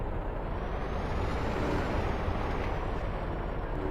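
Tank engine in a Battlefield game: a dense, steady rumbling drone with a hissing, roaring texture, close and loud without pause for the full stretch, no speech.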